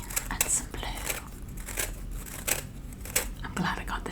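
Scissors scrape and scratch across a bath bomb in close, crisp bursts with brief crinkly, tearing textures, soft and intimate in an ASMR setting, with occasional quiet voice sounds in between.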